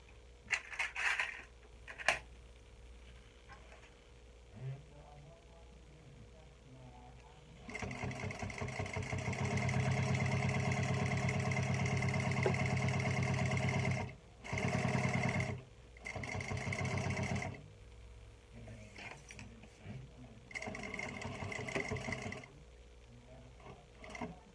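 A sewing machine stitching a makeup bag, a loud continuous motor whir with rapid needle chatter in long bursts, pausing briefly between runs, with softer handling noises at the start.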